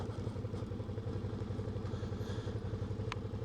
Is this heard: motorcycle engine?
yes